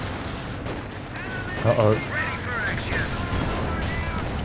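Machine gun fire in the Company of Heroes 2 real-time strategy game, bursts of gunfire mixed into dense battle noise while a voice briefly speaks.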